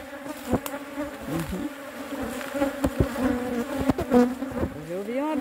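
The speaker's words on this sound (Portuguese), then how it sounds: "Hoje eu vi uma abelha brava" Bees buzz steadily and up close around a weak hive that is being strengthened, a dense drone with occasional sharper passes near the microphone and faint voices in the background.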